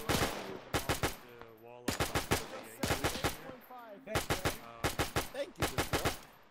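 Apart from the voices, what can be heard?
US .30 cal machine gun firing in ARMA 3 video game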